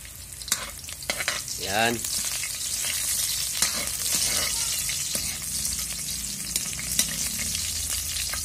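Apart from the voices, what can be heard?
garlic and onion frying in oil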